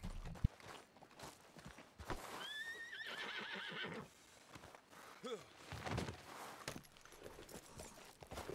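A horse in the video game Red Dead Online clops along with soft hoofbeats and gives a couple of whinnies, all fairly quiet amid other game sounds.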